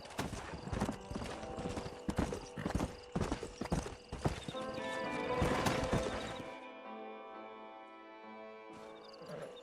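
Hooves clip-clop rhythmically as several horses trot in the video game Red Dead Redemption, with a whinny, then the hoofbeats stop and a sustained musical tone lingers.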